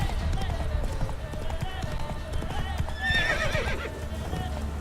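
Clip-clopping hooves and a whinny from the horse Roach in The Witcher 3: Wild Hunt, steady hoofbeats running throughout with the neigh rising near the end, over a low game background and a voice talking.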